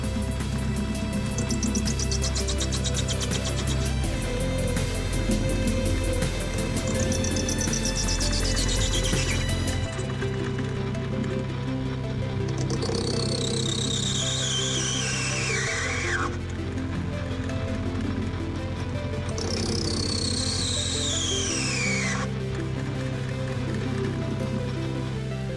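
Locomotive traction axle box parts are machined to size on a lathe, with a continuous mechanical run broken by three long squealing cuts that each slide downward in pitch.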